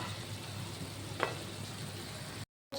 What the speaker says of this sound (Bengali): তো ডিম আলু কষা করছি